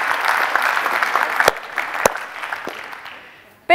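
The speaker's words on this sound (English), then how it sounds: "So a big, big round of applause." Conference audience at a pension industry event gives sustained applause, a dense wash of many hands that gradually fades out after a few seconds.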